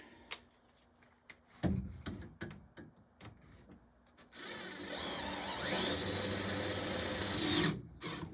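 A few faint clicks and taps, then a power drill whirs steadily for several seconds at close range before stopping abruptly, while restoring a Popeye arcade machine.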